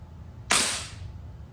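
A single sharp, loud gunshot from a rifle fed by an 8-shot rotary magazine, fired at a range, its crack decaying over about a second against steady low background noise.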